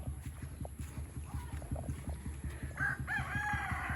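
A rooster crows on a rural farm, with a rhythmic engine-like thumping throughout and the cock-a-doodle-doo rising near the end, fairly faint.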